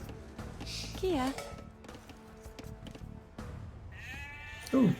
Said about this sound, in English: Ooh, more sheep.